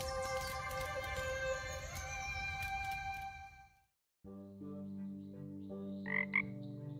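Frog croaking in the cozy farming video game Kamaeru, a bright tonal game croak with layered music-like harmonics, cutting briefly to silence before a second croaky call with chirps rises near the end.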